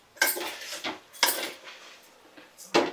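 A spoon stirs dry spices and rice together in a pot for veg biryani, making three separate scraping, clinking strokes against the pot with short quiet pauses between them, heard close up.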